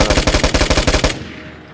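Rapid automatic weapon fire in the video game Vigor, a loud burst of about a dozen evenly spaced shots over one second followed by a fading echo tail.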